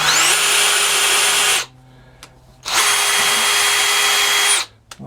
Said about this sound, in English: let's run the tap through this little ear.